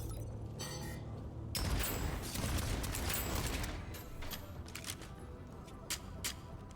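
A semi-automatic sniper rifle fires in the sci-fi roguelite shooter Deadzone Rogue: a dense, loud burst of gunfire and crackling impacts for a couple of seconds, then several sharp separate shots ring out over a low droning game background.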